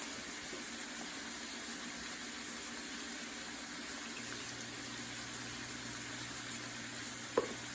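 Food browns in a pan with a faint, steady sizzle throughout, quiet and continuous, broken by one brief clink near the end.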